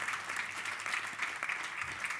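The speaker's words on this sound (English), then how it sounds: "Can we have a round of applause for the team here," An audience at a Greater Manchester levelling-up session applauds the staff team, with steady, moderately loud clapping from many hands throughout the short stretch.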